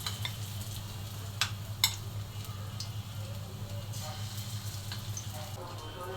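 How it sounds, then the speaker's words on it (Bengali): Cauliflower and broccoli fritters fry in hot oil, giving a steady low sizzle with occasional sharp clinks of a utensil against the pan; no talking. "এই তো এখন এই বড়াগুলো ভাজবো, দেখেন কত ইজি"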